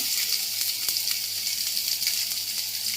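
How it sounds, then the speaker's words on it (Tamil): Sliced onion hitting hot oil in a pan, a loud, continuous close-up sizzle with faint crackles and occasional spatula ticks, no voices. "அது எண்ணெய் காஞ்சது கொஞ்சம் வெங்காயம் போட்டுடலாம்."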